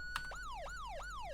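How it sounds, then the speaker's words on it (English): A rapid Virginia State Police siren yelp repeats about four fast downward sweeps, each snapping back up, loud and steady with no talking. "And then we have my favorite, the Yelp."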